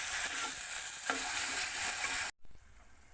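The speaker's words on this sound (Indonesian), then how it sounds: "kita campur dengan tadi yang kita udah ulek, bawang putih, kemudian kemiri dan ladaku. Kita aduk-aduk pemirsa." Garlic, candlenut and pepper paste stirred in a hot pan for Surabaya chicken soto, with steady loud sizzling and scraping that cuts off briefly near the end, then resumes quieter.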